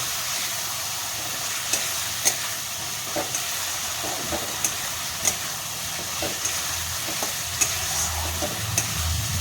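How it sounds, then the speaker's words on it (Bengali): Eel fish masala cooks down in a pan with added water, giving a continuous, even sizzle and bubbling with regular sharp taps and scrapes of a stirring spoon throughout. "জল দিয়ে এটাকে ভালো করে কষিয়ে নেব"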